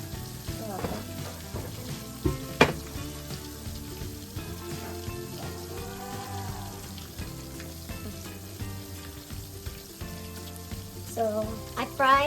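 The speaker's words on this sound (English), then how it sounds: "So I fried like 12 minutes the chicken." Flour-coated chicken wings for buffalo wings sizzle and crackle steadily in hot oil, close and continuous, with occasional clinks and stirring sounds.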